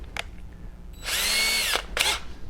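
A power drill bores a half-inch-deep pilot hole, centered in a wooden spacer block shim. A short buzz opens, then a loud, steady whine runs for nearly a second, followed by a brief second burst. No one speaks.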